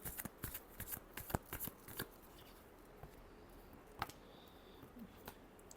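Tarot cards are shuffled in a quick run of crisp riffling flicks and taps, then a few scattered softer clicks, close and quiet with no talk.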